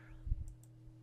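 A computer mouse clicks a few times while an Excel chart is edited, soft close taps in a quiet room over a faint steady hum.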